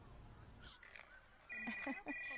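A mobile phone rings in a Punjabi household scene, a faint steady electronic ringtone tone that comes in halfway through and repeats, with quiet chirpy background sounds and no clear speech.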